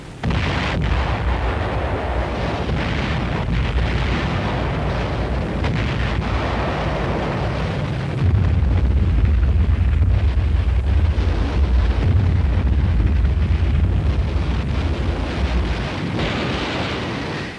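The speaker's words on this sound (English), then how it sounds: "Once its rockets were fired, the vulnerable rocket launchers quickly left the area." WWII rocket launchers fire during the battle of Iwo Jima, a continuous heavy roar of blasts and rushing noise that deepens into a louder, sustained low rumble partway through.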